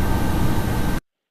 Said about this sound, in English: The other one is like I'm sitting on one of the big planes headed across the ocean